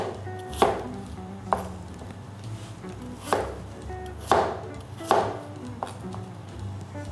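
A knife chopping apples on a board, six distinct thuds at an irregular, unhurried pace, fairly close and clear with quiet between strikes and no talk.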